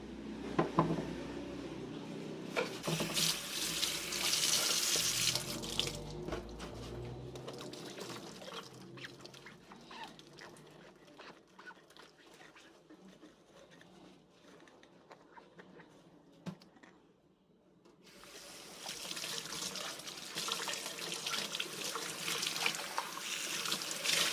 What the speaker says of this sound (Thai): ก็ผสมน้ำนะคะเทใส่นี้แล้วก็จะล้างแก้วค่ะ